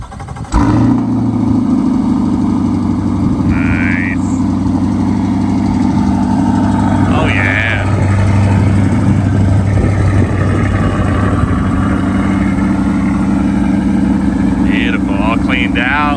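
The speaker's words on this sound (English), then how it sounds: "Let's get a cold start." Steady low idle of a 2024 Corvette C8 Stingray 3LT, a flood-damaged car, running close and loud for the whole stretch after a cold start, with people talking over it.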